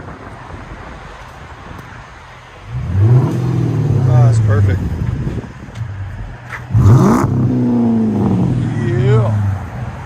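A 2008 Chrysler 300C with a 5.7L HEMI V8 and dual Magnaflow Magnapack exhaust revs twice, each deep, loud rumble climbing and then falling back to idle. Someone speaks briefly between the revs.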